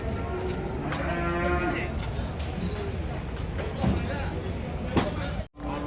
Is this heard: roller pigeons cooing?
no